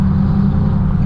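Car launching off a street racing line with its tires spinning, a loud, dense engine roar with low rumble throughout this very short burst, no voices heard.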